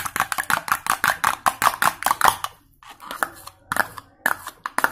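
An egg is beaten in a bowl with rapid rhythmic taps, a fast run of sharp close strikes, then a short pause and a few more bursts.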